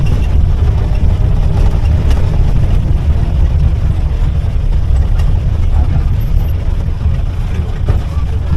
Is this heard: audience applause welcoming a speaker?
no